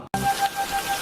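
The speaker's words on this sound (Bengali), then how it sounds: "এই যে বৃষ্টিতে ভিজে ভিজে যাচ্ছি" Steady rain falls in a continuous close hiss, with a faint repeating tone beneath it and a brief dropout at the start.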